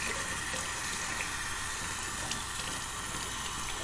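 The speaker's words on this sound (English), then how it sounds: "I'm going to put a little bit of water on this puck and I'm going to wet this brush really well" Tap water runs in a steady, soft hiss as a shaving brush and soap puck are wetted at a sink, continuous and unbroken throughout with no talking.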